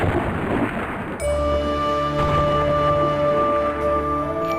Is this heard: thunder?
yes